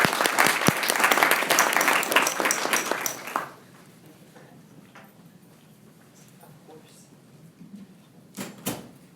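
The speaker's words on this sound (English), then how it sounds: "Let's give Susan a round of applause." Audience at a conservation summit breaks into loud, dense applause for a speaker, which stops abruptly after a few seconds and leaves quiet room noise with scattered small bumps.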